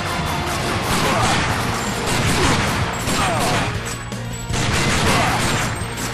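Continuous machine gun fire in Time Crisis 4, a rapid, dense, loud chatter with metallic impacts and debris, holding steady throughout with a brief dip midway.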